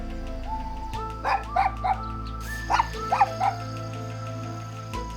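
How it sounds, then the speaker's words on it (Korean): A dog yips and barks in short bursts of two and three, greeting visitors at a rural country house in Okcheon, North Chungcheong, in autumn, with steady background music underneath. "반갑게 맞아주는 강아지 소리를 따라 찾아간 집."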